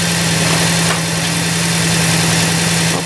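A Jeep Grand Cherokee engine idles steadily after running for several minutes, a constant low hum with a strong steady tone, alone and close, with no talk.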